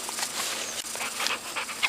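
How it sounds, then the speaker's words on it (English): A dog pants steadily close to the microphone, rapid breathy huffs running without a break while it waits to be petted, with a faint whimper near the end and no speech. "And there's my dog wanting me to pet him."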